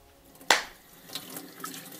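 Tap water runs while bentonite clay is rinsed out of wavy natural hair, opening with a sudden close splash that fades into a steady soft flow with faint drips and gurgles, no voices.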